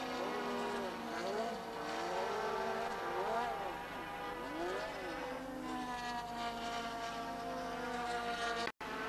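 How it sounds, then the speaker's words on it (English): Race cars at the Brands Hatch circuit in 1987, engines droning with rising and falling pitch sweeps as cars pass, steady and fairly loud, with a commentator talking over them. "Then it was Modena's turn to spin, and although he was able to rejoin"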